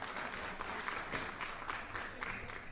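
Audience applause for Renuka Chowdhury at an India News Manch event: steady, dense clapping from a crowd, fairly faint and even, lasting throughout with no talk over it.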